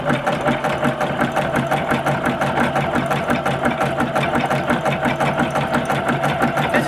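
Sewing machine stitching a table runner, running steadily and fast with an even, rapid mechanical rhythm close by, uninterrupted for the whole stretch with no voices.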